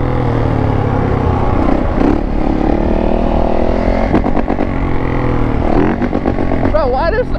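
Yamaha Raptor 450 quad engine revving hard with rising and falling pitch, close and loud, while people shout and talk over it.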